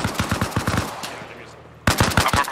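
Rapid bursts of gunfire in the military shooter ArmA Reforger during a Soviet mechanized infantry assault on a fortified quarry, loud and close, dropping to a lull before a sharp renewed volley of shots.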